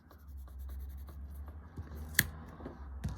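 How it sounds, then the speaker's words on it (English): Pencil scratching and marking on paper while making an open-front handmade card, a run of soft, faint strokes close by with one sharper tick, no talking. "just underneath I'm going to mark, put a pencil mark"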